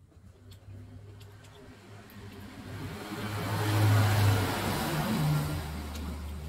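Road vehicles and motorcycles pass along a highway, a steady mid-pitched engine drone swelling louder as one vehicle nears and peaks, then easing slightly, with no talk over it.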